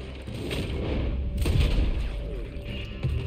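A booming gunshot rings out in the video game Red Dead Redemption 2, a loud low thump near the middle over a steady rumbling game backdrop.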